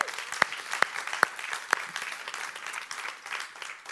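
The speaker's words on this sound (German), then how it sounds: "dürft ihr jetzt nochmal einen fetteren Applaus für Jesus geben" Church congregation gathered in a brewery venue gives lively applause, a crowd clapping under a few loud, sharp close-up claps near the start, then gradually thinning over four seconds.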